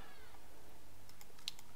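A cat meows faintly behind the room's light computer keyboard clicks, giving a single short call over a quiet background.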